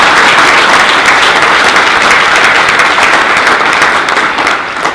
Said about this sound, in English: I want to pause and have a round of applause for Bicentennial Commission members who are in the audience today.